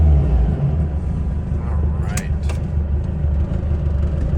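A 1967 Volkswagen Beetle driving, with a steady low engine rumble and road noise filling the cabin throughout and a couple of brief higher squeaks or clicks midway.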